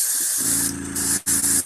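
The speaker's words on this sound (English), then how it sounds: "It's kind of a coarser spray, kind of a grainier spray." Airbrush spraying coarse, grainy white primer, a steady close hiss that runs continuously with one brief break near the end.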